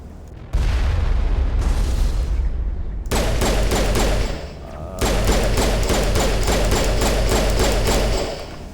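Sniper rifle fire and booming gunshots in the Mass Effect 1 video game, loud repeated bursts forming a rapid fusillade with short gaps between volleys, no talk over it.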